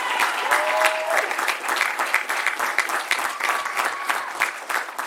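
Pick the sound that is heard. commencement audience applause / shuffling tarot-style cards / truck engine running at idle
commencement audience applause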